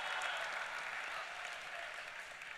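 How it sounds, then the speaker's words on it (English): An audience at a Wisconsin FFA convention keynote claps in a brief, dense burst that stays steady and gently fades, heard from a moderate distance with no voices over it. "everyone give Blake a big round of applause"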